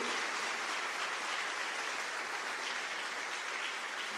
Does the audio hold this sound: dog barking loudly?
no